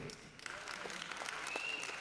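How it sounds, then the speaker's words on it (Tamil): Audience applause at a Tamil social event, a steady dense patter of clapping throughout at moderate distance with a faint voice beneath it. "இது இந்த கைத்தட்டல் வந்து அது வந்து பெரிய சப்போர்ட்டாக நினைக்கிறேன்."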